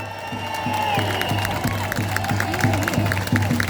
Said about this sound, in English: Make a massive round of applause for Andrew Bridgen.